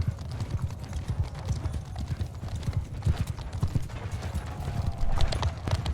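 Cavalry horses galloping in the video game Bannerlord, a dense, loud rumble of many hoofbeats close by with an occasional whinny.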